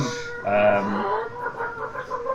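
A chicken clucks and squawks in a short burst of choppy, nasal calls, fairly close and loud, with no talking.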